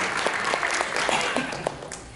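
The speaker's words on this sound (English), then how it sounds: "Everybody, can we give Dory a round of applause, please?" Dense applause from a Q&A panel audience fills the clip steadily and loudly, with no speech over it.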